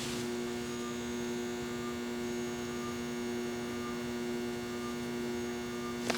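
A low-power fan with a metal blade runs steadily, giving a constant electric hum with a tonal whine that stays level and unbroken from start to finish.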